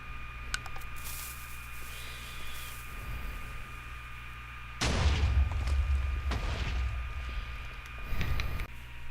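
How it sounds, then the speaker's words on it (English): Two heavy booming blasts from a Minecraft TNT cannon, the first followed by a long crackling rumble, the second shorter, over a faint steady electronic hum. "this is a TNT cannon."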